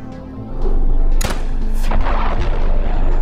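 A sudden heavy boom bursts out, followed by rumbling debris and crackling noise that lingers, loud and close.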